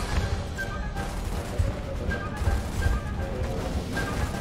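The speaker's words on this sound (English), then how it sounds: "What's he shooting at now?" Enemy gunfire crackles in a dense, continuous wash during a Gears of War firefight, steady bursts with scattered sharper cracks, moderately loud throughout with no talk over it.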